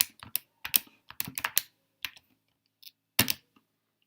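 Keys tapped on a computer keyboard while entering a numeric calculation, several quick clustered clicks with short pauses between bursts, close and clear with no talking.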